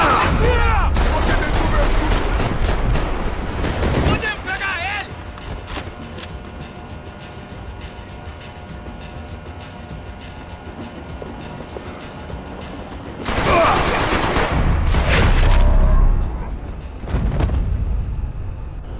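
Gunfire in the Max Payne 3 video game, a dense fusillade of shots and booms at the start, then a quieter stretch of ambience before another loud burst of gunfire, with game dialogue heard over the action.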